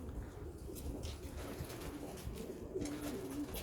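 Young racing pigeons cooing inside a loft, a soft low continuous murmur of calls with a few clearer coos near the end, heard at a distance with faint room noise and no talking.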